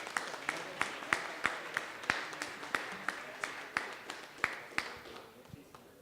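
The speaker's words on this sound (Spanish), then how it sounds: "Por favor, un fuerte aplauso." Sparse applause at an environmental forum on waste management and air quality, with a few distinct loud claps in a regular rhythm standing out over faint scattered clapping, tapering off toward the end.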